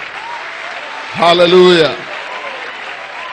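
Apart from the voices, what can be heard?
church congregation clapping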